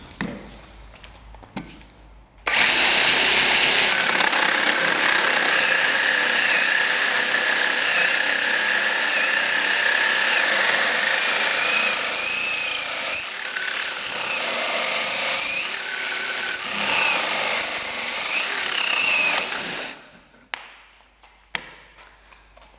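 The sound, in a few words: drilling a 51 mm hole with a RISS hole saw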